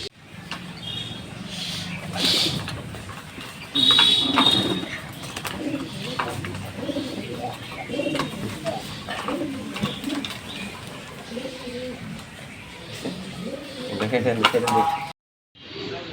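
Racing pigeons at a loft coo repeatedly in soft, low, throaty calls close by, with someone talking over them and occasional sharper chirps and wing flutters.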